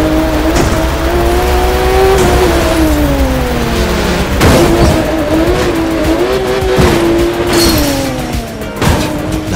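Racing cars in The Crew 2 roar loudly and continuously, engine pitch rising and falling through gear changes, with tire squeal and sharp impact bursts scattered throughout.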